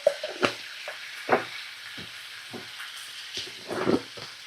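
Green chili and a little turmeric fry in a hot pan with a steady sizzle, broken by several bursts of stirring and scraping from a spoon.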